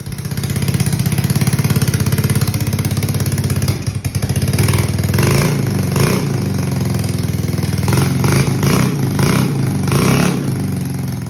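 A Honda Ruckus scooter engine under a build, started for the first time and running, a loud, close, steady idle with a brief stumble and then uneven throttle pulses.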